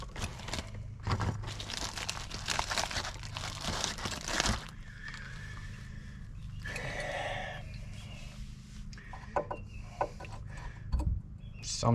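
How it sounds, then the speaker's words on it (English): New front brake pads for a Dodge Caravan are unboxed. Cardboard and plastic packaging crinkle and rustle up close, with scattered bumps and handling noises over a quiet garage background. "Let's open our new pads."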